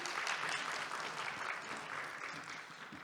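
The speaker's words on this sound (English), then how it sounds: "Let's give them one more applause" An audience claps steadily and densely at a panel discussion, a broad, sustained ovation that fades slightly toward the end, with no talk over it.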